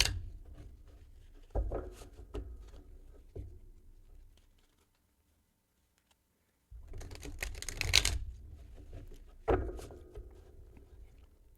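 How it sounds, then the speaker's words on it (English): Tarot cards riffle and snap in short, soft bursts, with a quiet pause between shuffles and a louder flurry near the end. "One more shuffle."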